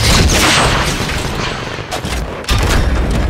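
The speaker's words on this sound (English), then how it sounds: "I'm gonna use my rocket launcher here." A rocket launcher explosion in Fortnite, a loud, dense blast and rumble that fills the clip, followed by a second sharp burst, with no talking.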